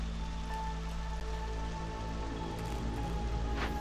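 Steady light drizzle patters across the whole clip in the video game Against the Storm, with faint tonal game ambience underneath and no talk.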